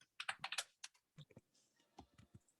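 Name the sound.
fast typing on a computer keyboard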